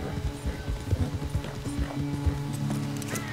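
Horses galloping in a race in Red Dead Redemption 2, rapid rhythmic hoofbeats pounding close by under a low music bed, with an occasional faint snort and no talking.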